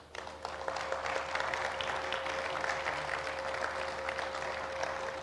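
A conference audience claps steadily for the whole stretch, a dense, even patter of many hands with no voices over it.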